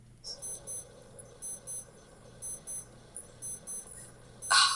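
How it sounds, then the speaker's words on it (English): A wristwatch alarm: thin electronic beeps repeat in quick pairs at a regular rhythm, fairly faint, with a brief louder noise at the end. "My watch beeps at the same time every day."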